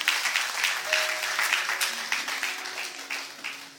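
A church congregation claps enthusiastically in rapid, brisk applause for several seconds, fairly close, with faint tonal hum underneath.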